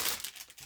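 Plastic packaging around papers crinkles and rustles close up in a brief burst of crisp crackling.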